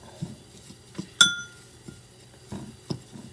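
A spoon clinks against a glass bowl while salt is mixed into a chili oil mixture, with a few soft scrapes and one sharp ringing tap, close and fairly quiet with no talking.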